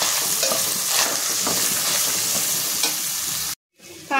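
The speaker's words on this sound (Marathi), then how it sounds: "त्याच्यामध्ये आपण कांदा टाकून परतून घ्यायचे" Chopped onion sautéing in hot oil with whole spices and ginger-garlic paste for a dhaba-style prawn biryani: a steady close sizzle with soft spoon stirs, cutting off sharply near the end before a fresh burst of frying.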